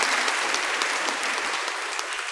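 A church congregation at a Sunday Advent Mass claps together in sustained, dense applause, loud and steady throughout with no pauses.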